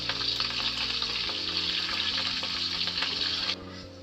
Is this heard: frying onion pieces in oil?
yes